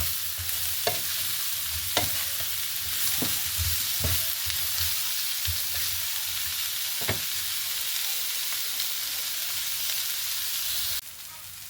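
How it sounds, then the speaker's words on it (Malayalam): Ingredients with a little salt are sautéed in a pan over a low flame, giving a steady soft sizzle broken by regular scraping knocks of a stirring spoon before the sound drops off near the end. "ഒന്ന് ലോ ഫ്ലെയിമിലിട്ട് ഒന്ന് വഴറ്റിയെടുക്കണം"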